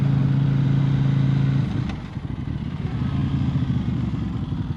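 A twin-cylinder Leader motorcycle engine idling close by with a steady low throb, which drops in level and turns rougher and more uneven after about two seconds.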